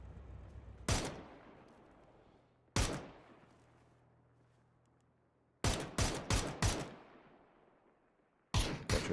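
Gunshots in the battle royale game PUBG ring out in sharp, loud reports: two single shots, then a quick burst of four or five, then another pair near the end, each trailing off into quiet ambience.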